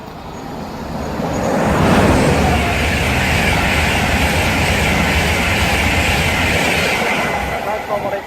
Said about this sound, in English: Now getting ready to pass by is Virgin Trains East Coast 225 set.